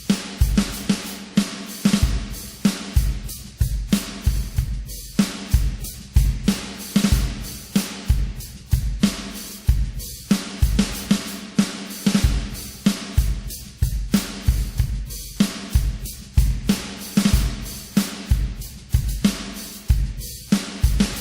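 Hip-hop drum beat programmed in FL Studio, a steady looping pattern of punchy kicks, snares and crisp hi-hats repeating for about twenty seconds, loud and with no talking.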